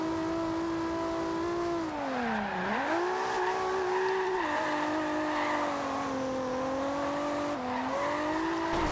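A Toyota Supra drifting in the racing game Forza Horizon 2. A steady engine note dips and climbs through the slide, and a sustained tire squeal runs under it the whole time. Loud and continuous, with no talking.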